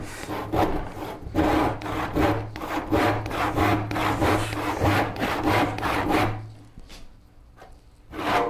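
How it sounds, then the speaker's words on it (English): Hand rip saw cutting through wide wood boards for a Shaker-style cupboard, a steady run of rhythmic rasping push-pull strokes close by, fading out briefly near the end before the sawing picks up again. "Why am I using my rip cut again? Probably because of how wide this thing is."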